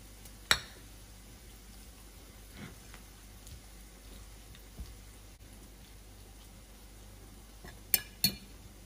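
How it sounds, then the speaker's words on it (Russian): Sparse metallic clinks of a fork against a plate while mashing canned fish, a few sharp taps separated by quiet pauses, close by. "Содержимое консервы выкладываем в глубокую тарелку и все разминаем вилкой."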